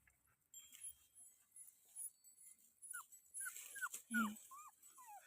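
A dog whimpers indoors in a series of thin, high, rising whines, fairly faint, repeating in short bursts that grow busier toward the end, with no talking.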